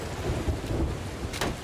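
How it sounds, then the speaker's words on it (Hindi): Thunder from a storm directly overhead in the video game Sea of Thieves rumbles low and heavy with rain hissing beneath, a loud rolling crack building through the short stretch. "अरे यहाँ पे पूरा तूफान हमारे बिल्कुल ऊपर ही है, कितना जोर से आवाज आ रहा है।"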